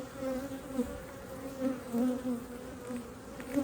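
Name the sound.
honeybees buzzing at an open hive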